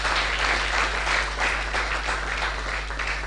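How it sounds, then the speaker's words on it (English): Sustained audience applause for a speaker at a knowledge-sharing event, a dense, steady wash of many hands clapping at close range with no pauses. "please let's give him another round of applause"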